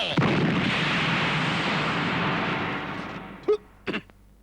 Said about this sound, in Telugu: బాంబు